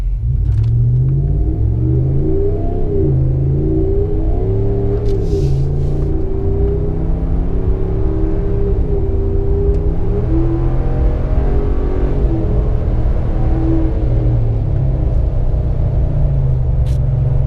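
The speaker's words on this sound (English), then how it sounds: "You might not even hear the exhaust when I gas it here." A Ram 1500 pickup with a 5.7L Hemi V8 and a Gibson Performance exhaust pulls away from a light on a very hot day, heard from inside the cab: a deep, steady engine rumble rising and falling as it accelerates through gears, with no talking.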